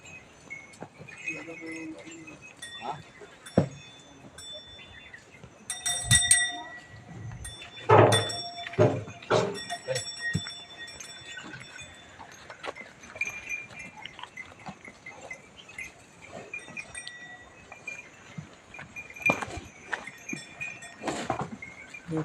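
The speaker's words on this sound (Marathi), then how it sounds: "हे पहा, आमच्या म्हशी आल्यात." Buffaloes arrive at a farm yard, with scattered hoof clatter, bell clinks and occasional low animal calls coming in bursts, mixed with bits of background chatter and other farm noise.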